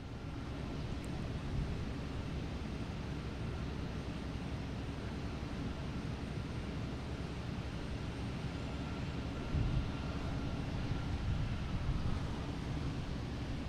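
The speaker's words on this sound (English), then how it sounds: "I think we got a Cape Air lining up out there." A Cape Air plane lines up on the runway at Boston Logan International Airport, heard as a steady, distant broadband engine rumble and wind-like roar that holds evenly throughout with no talk.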